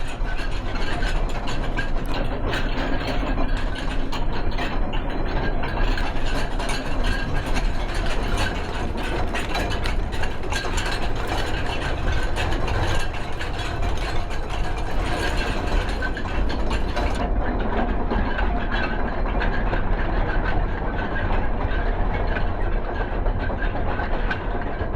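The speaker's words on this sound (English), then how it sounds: "So this is the pestle and mortars in action." Mechanical pestles and mortars grind snuff in a factory, a loud, continuous clatter of rhythmic ratcheting and knocking machinery that churns on without pause.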